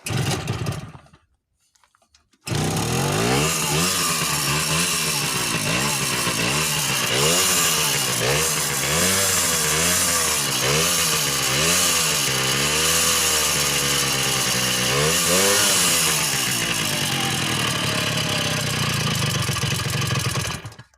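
The engine of a Romet Ogar 200 moped runs loudly and steadily after a brief silence, its revs wavering up and down before settling into a rough idle.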